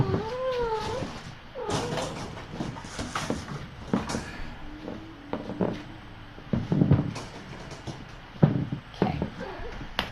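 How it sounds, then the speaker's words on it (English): Tiny kittens meowing indoors, several high, wavering mews at the start followed by scattered rustles, thumps and clatter, with a quiet voice murmuring in between. "There's some kittens for you."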